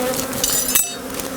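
Honeybees in a nuc box hum in a dense, continuous drone during a first spring inspection, loud and close, with a light clink partway through.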